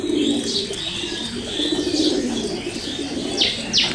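A pigeon feeding on chickpeas, giving soft continuous cooing close by, with a few scattered sharp pecks and rustles and no voices.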